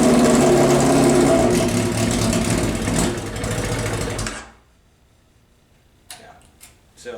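A Suzuki Bandit 1200 motorcycle engine runs on choke with a steady, fast, rattly idle, close and loud for about four seconds, then cuts out abruptly, leaving near silence with a few faint clicks.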